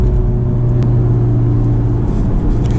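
A Honda S2000 engine screams at high RPM, a loud, sustained, near mechanical drone with no talk over it.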